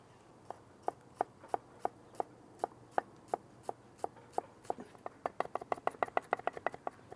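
Shallots being chopped for chimichurri, a steady run of crisp knife taps on a board that quickens into rapid strokes toward the end, close and fairly quiet.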